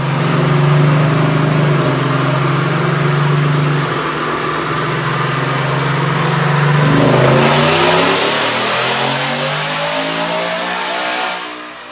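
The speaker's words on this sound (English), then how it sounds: "Check out this dyno pull." A supercharged 5.0 V8 in a 2021 Ford F-150 with stainless headers winds up steadily on a dyno under full throttle, rising in pitch through a long pull, then cuts off and drops away near the end.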